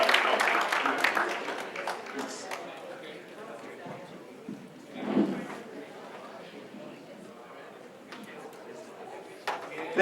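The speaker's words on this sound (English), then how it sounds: "let's give ourselves a round of applause" An audience at an anniversary celebration gala claps through most of the stretch, a moderate wash of applause that thins midway and swells again briefly, with a voice talking over it at times.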